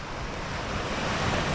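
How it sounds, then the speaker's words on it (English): Sea waves rolling in with the incoming tide on a French coast at sunset, a steady broad wash of surf mixed with wind rumbling on the microphone. "The sea's clearly coming in the tide because the waves are pushing up."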